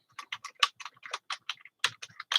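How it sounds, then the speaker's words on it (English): Rapid clicking of computer keyboard keys in uneven bursts, close and fairly quiet, with short pauses between clusters of keystrokes and no talking. "Oh, you don't see what I'm typing?"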